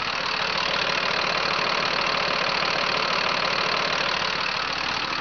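A 2006 Freightliner M-2 box truck's Mercedes diesel engine idles steadily nearby, a continuous loud rumble with an even mechanical clatter running through the whole stretch.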